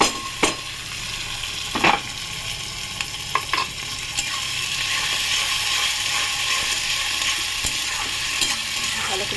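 Tomato and green chilli frying over garlic in a pan for an egg curry, with a few sharp spatula scrapes at first, then a steady, building sizzle.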